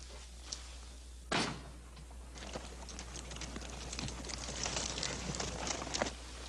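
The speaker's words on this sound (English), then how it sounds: "Close the door." A door swings shut with a single firm thump near the start, followed by scattered knocks and shuffling in a dim interior with a steady low hum underneath.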